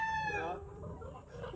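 A gamefowl rooster in a cockfighting ring finishes a crow in the opening moment, the call trailing off into low crowd murmur and background voices.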